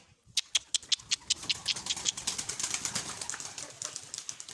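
Hungry pet birds chirp rapidly and excitedly, a dense flurry of sharp calls up close with soft rustling and fluttering underneath.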